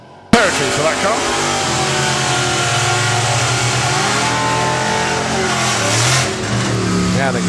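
A drag-racing Chevelle roars down the strip at a national finals qualifying event, its engine note loud and sustained as it accelerates hard, rising in pitch through gear changes with no pause.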